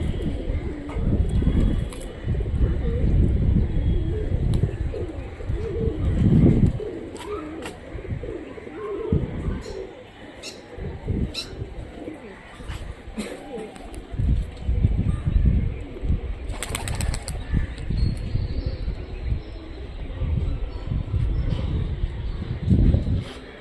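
Rajshahi Giribaj pigeons cooing in soft, repeated calls, with rustling and faint chirps from other birds around them, under steady background noise and occasional nearby voices.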